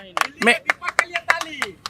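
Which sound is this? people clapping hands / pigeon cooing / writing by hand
people clapping hands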